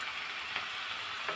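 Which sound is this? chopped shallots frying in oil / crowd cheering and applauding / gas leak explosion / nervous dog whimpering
chopped shallots frying in oil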